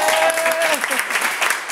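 Festival audience applause at a comedy show, a steady broadband clatter of clapping filling the stretch, with a faint voice briefly sounding over it at the start.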